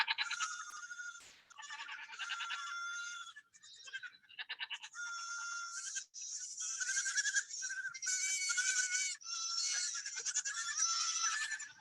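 Little dwarf goats bleating in a run of wavering, nasal calls one after another, fairly close and clear with short gaps between them.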